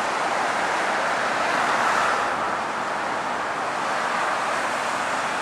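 Road traffic flows both ways past a fire station in Cambridge, Massachusetts, a steady broad roar of passing vehicles that swells slightly and then eases, heard from the roadside.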